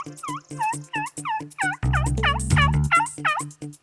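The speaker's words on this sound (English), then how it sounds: "there was a lot of gobbles" Wild turkey toms gobbling outdoors, a rapid series of rattling gobbles repeating in quick bursts, several birds overlapping and fairly close, with a brief low rumble midway.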